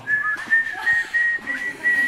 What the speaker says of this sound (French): on va peut-être siffler tous les deux